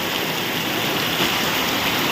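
Heavy first-of-the-season downpour driven by strong wind, a dense, loud, unbroken hiss of rain and rushing water filling the whole moment with no voices.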